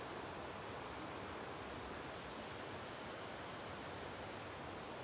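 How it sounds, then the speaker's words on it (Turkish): A waterfall near Tonya in the Turkish highlands roars with a dense, steady rush of falling water, loud and unbroken, with no voices. "Şelaleden görüntüler arkadaşlar."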